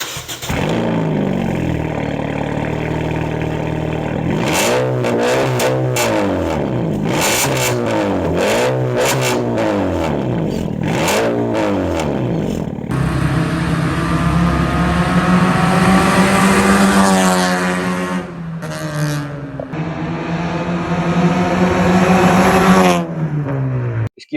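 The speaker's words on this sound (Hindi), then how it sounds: "इसकी आवाज इस टाइम ये स्ट्रेट पाइप पे है और बहुत जालम है।" 1800cc car with a straight pipe exhaust and 2-inch piping revving hard, loud repeated throttle blips rising and falling, then longer sustained high-rev pulls with a raspy, crackling tone close by.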